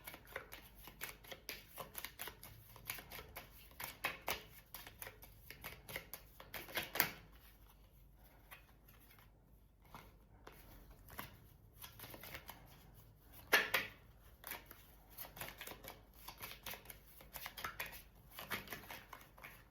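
Tarot cards being shuffled and drawn from a deck, a long run of quiet, close, rapid riffling and flicking bursts with a few sharper slaps, no talk.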